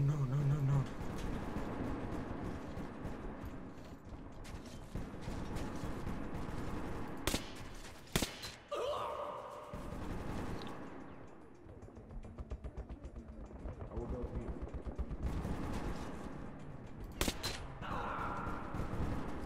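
A Nazi sniper fires in the Metro 2033 Redux video game: a few sharp, separate cracks ring out over a busy, rumbling game soundscape, with short pauses between shots.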